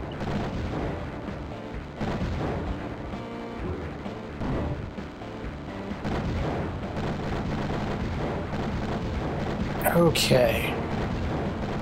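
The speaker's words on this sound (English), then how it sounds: "they're firing so many missiles." Rapid missile launches and explosions from a video game fill the scene with dense, continuous booming and rumbling, a sharp high burst near the end, while someone speaks briefly over the barrage.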